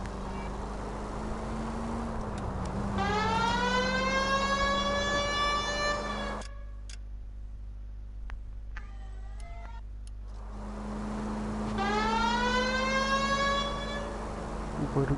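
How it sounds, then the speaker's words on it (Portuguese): Police siren in the L.A. Noire video game: a wailing, rising-and-falling siren with a steady engine drone beneath, cutting out midway for a few seconds of near quiet before resuming, moderately loud. "estás a ouvir o barulho da sirene?"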